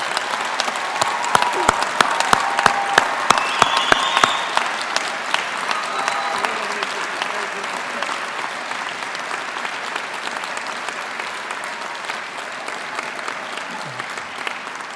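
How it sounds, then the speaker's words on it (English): Sustained applause from a large crowd at a university graduation ceremony, steady and dense throughout, with a few sharper individual claps standing out near the start. "would you join me and others in this place in a round of enthusiastic applause"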